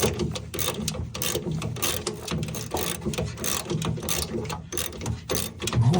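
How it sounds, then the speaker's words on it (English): A hand ratchet clicks rapidly and continuously while loosening bolts on a VW Beetle, close and loud, with brief pauses between strokes and no speech. "Now I gotta remove those two bolts that are there."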